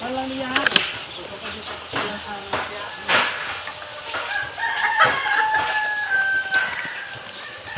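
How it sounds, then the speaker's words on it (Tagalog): A rooster crows loudly nearby while chickens cluck around it on a farm in the Philippines, with a few voices talking in the background. "Manok na pod mi guys"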